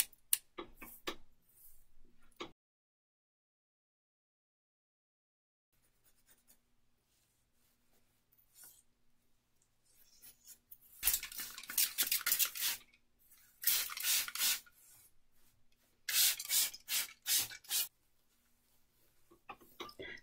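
Scissors snipping through the lace of a lace front wig, a series of close, crisp cutting and rustling bursts separated by short pauses.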